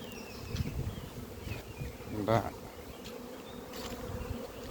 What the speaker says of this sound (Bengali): মৌমাছি কীভাবে সুন্দরভাবে কাটতেছে গুনগুন গুনগুন শব্দ আছে